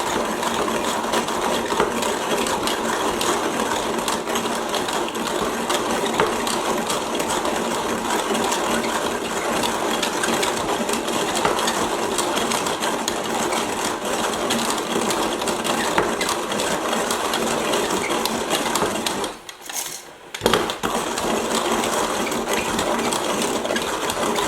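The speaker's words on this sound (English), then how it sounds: "grinder, and then we'll just grind it." Coffee beans being ground in a Zassenhaus hand grinder set to its lowest setting, a continuous close, gritty crunching and mechanical rasp that stops briefly near the end before resuming.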